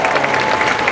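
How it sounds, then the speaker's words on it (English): Audience clapping at a water rally in Sacramento, a steady dense patter of many hands filling the whole second at moderate loudness. "We can clap for that, that's fine. We can clap for that."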